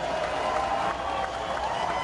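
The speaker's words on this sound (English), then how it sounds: "Cheering here at the Stellar Aerospace" A crowd claps and cheers at an aerospace company headquarters during a rocket test flight, a steady wash of applause and voices at moderate distance lasting throughout.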